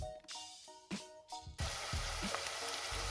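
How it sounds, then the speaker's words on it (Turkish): Chopped onions hit hot olive oil in a pot and start sizzling, a sudden loud hiss that stays steady after a few soft clinks of a pan. "zeytinyağımı tencereye alarak soğanlarımı kavurup fasulyelerimi ilave edip yemeğimi yapmaya başlayacağım."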